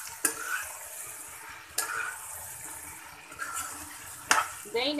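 Chicken coated in yogurt and lemon roasting in a pan for a dhaba-style black pepper curry, a soft low sizzle broken by a few distinct scraping stirs of the spoon, fairly quiet with no talk.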